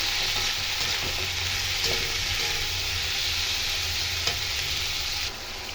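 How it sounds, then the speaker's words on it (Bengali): Constant soft hiss of spices and curry powder frying in a pan, with occasional faint scrapes from stirring and a small knock near the end. "এবার সমস্ত মশলাকে ভালো মতন ভেজে নেব।"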